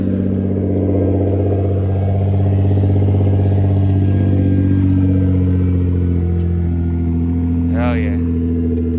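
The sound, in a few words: Nissan GT-R engine exhaust after cold start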